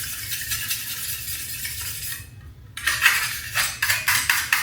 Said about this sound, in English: So the razor is to clean the putty knife like this.